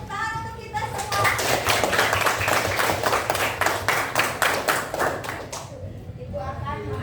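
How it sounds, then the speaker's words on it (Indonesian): Schoolchildren in a classroom clap together in a brisk, steady burst lasting several seconds, with a teacher's voice and kids' chatter just before and after. "Tepuk tangan untuk kita semua."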